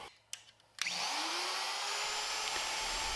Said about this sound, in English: I just started out real slow, and then once I got past that, it was full speed ahead to cut the rest of the dado.